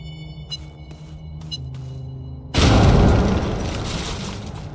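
An explosion in the Astroneer video game arrives as one sudden loud boom with a broad rumbling roar that slowly fades. It follows a few seconds of quiet ambience with light electronic chirps.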